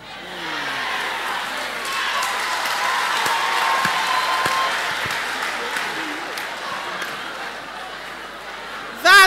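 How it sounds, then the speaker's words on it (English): An audience at a live-streamed bank event claps and murmurs steadily, a broad crowd wash with scattered claps, and a voice breaks in at the very end. "everybody that is clapping or everybody that is murmuring"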